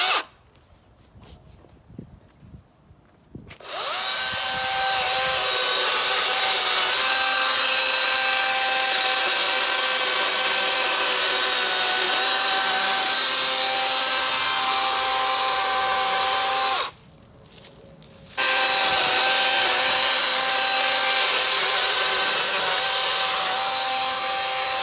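A DeWalt FlexVolt 60V Max brushless 16-inch cordless chainsaw whines loudly and steadily while cutting through small limbs. A brief quieter break sits near the middle, then the saw runs again at full speed, close by.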